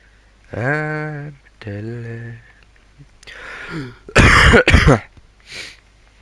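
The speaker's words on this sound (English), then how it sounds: "this cough's annoying me" A few drawn-out vocal sounds, then a couple of harsh, rough coughs close to the microphone, followed by a softer throat-clearing rasp.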